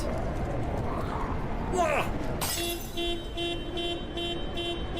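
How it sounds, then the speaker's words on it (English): In an indie video game in development, a thrown glass bottle triggers a car sound: a sharp crash-like burst followed by a short series of faint repeated horn-like toots, over steady background noise and talk. "it would play the car sound from the glass bottle, no matter where I threw it"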